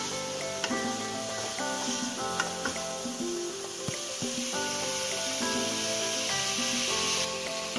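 A spoon scrapes and stirs grated carrot halwa sizzling in a pan, a steady close-up frying hiss with rhythmic scraping strokes and no voices.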